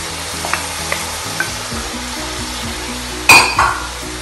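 Banana blossom stirred in a hot frying pan, a steady close sizzle with a few soft taps early on, then a louder scrape and clank of the spoon against the pan near the end; no one speaks.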